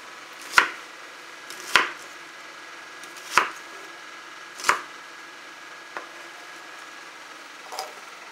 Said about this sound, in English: Do you like chopping?